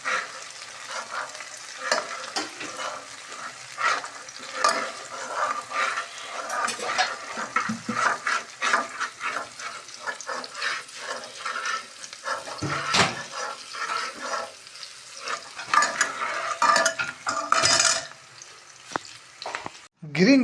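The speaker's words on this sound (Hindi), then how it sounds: "हल्का सा ऑयल डाला और ये प्याज डाल दिए और हल्के हल्के इसको ये चलाते रहेंगे" Onions frying in a little oil in a karahi while being stirred gently, a steady close sizzle with frequent scraping stir strokes throughout, no talking.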